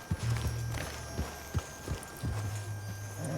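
A horse walks at a steady pace in Red Dead Redemption 2, its hooves clip-clopping in an even rhythm over a low game-engine hum, with no talk.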